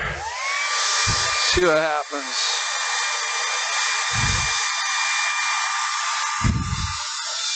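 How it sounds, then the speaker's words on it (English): A blow dryer drying crackle paint whirs steadily with a high, constant whine throughout, while someone speaks briefly over it. "And I'm going to hit it with the blow dryer."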